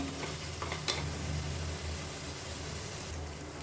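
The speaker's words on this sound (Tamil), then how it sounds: "இப்போ இஞ்சி பூண்டு பேஸ்ட் போட்டு நல்லா வதங்கிடுச்சு" Onions and ginger garlic paste sautéing in oil, a faint steady sizzle with a few light stirring scrapes and a soft tap, heard close but quietly with no voices.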